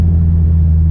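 A low, steady engine rumble with a deep, throbbing exhaust burble from a nearby idling Ford Mustang EcoBoost with a burble tune, continuous throughout.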